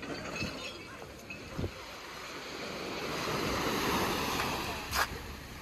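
Waves wash onto a beach in Sudak, Crimea, a steady broad rush of surf swelling and easing, with a few brief knocks and splashes nearby and no talk.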